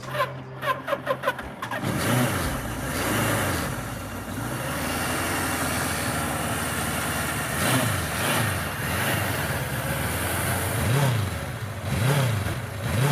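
A Suzuki 1100 Katana motorcycle engine, a racing endurance bike, revs repeatedly in rising and falling pulls after a brief start, loud and close throughout with no talk over it.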